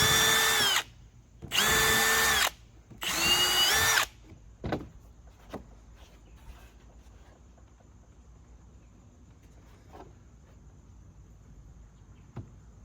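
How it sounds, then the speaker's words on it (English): A power drill whirs in three short bursts, pre-drilling pilot holes in pallet wood, each spinning up and stopping, followed by quieter knocks and small clicks as work continues. "go ahead and pre-drill your holes for it."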